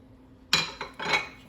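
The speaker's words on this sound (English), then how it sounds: "We're gonna mix all of our ingredients in." Butter, cheese and other ingredients being stirred together in a pan for garlic parmesan wing sauce, heard as a few short metallic clinks and scrapes of a utensil against the pan, close and fairly quiet.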